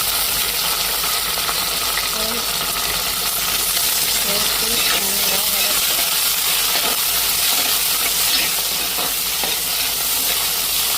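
Onion, green chili and curry leaves sautéing in a pan, a continuous close sizzle and hiss with occasional stirring clinks and no talk.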